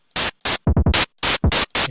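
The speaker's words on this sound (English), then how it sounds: "For the snare I want white noise, so let's go to operator 1, and I think this is the noise signal." White noise from the Sytrus synthesizer in FL Studio, set up as a snare sound, plays as a series of short, loud broadband hiss bursts in a choppy pattern, some with low thumping attacks, with no talk.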